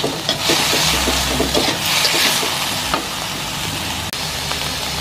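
Beef for meatballs cooking in a pan, a steady close sizzle with repeated stirring scrapes and occasional knocks of the utensil, no talking.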